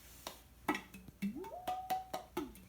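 A large glass canning jar with a two-part metal lid is struck several times, each sharp tap followed by a ringing, wobbling tone that slides upward in pitch, close and fairly quiet.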